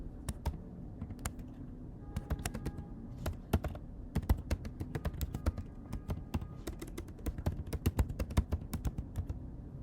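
Code being typed on a computer keyboard: quick, irregular clusters of crisp key clicks close by, fairly quiet, with no voices.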